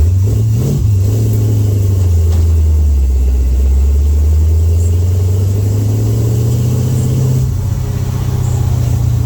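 A heat-soaked supercharged car engine struggles under load in third gear, a loud, steady low rumble that wavers and sags, with a brief dip near the end as if cutting out at a certain RPM.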